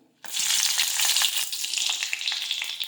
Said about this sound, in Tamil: தாச்சியில் 2 ஸ்பூன் எண்ணெய் ஊற்றிக்கோங்க. அதில் இதெல்லாம் ஒவ்வொன்றா பொரித்து நம்ம எடுத்துக்குவோம்.